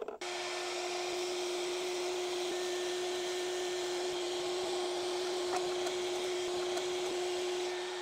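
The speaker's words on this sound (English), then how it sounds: "I have a Ryobi vacuum cleaner that the battery for all my tool sets fits this." Battery-powered Ryobi cordless vacuum sucking ashes out of a Big Green Egg ceramic grill, a steady whirring motor hum with a constant tone, switched on abruptly and running evenly at moderate volume with no talk.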